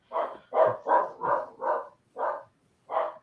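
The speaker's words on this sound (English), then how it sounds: "you've got a dog and she barks at anything that moves" A dog barks in a quick series of seven sharp, evenly spaced woofs, close and clear with no other sound around them.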